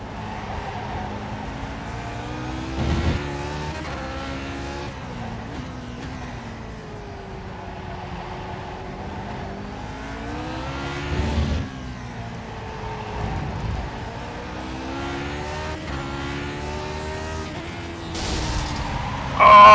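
Lotus 49 race car engine in the iRacing sim at Winton, a continuous high-revving motor with repeated rising and falling pitch sweeps as it shifts through gears, loud and steady with brief surges, no talk.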